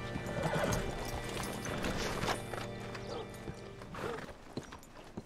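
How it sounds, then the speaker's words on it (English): In Red Dead Redemption 2, horse hooves clip-clop on hard ground, followed by a short whinny, with faint mechanical clicks in the background. "Hitch your horse up here."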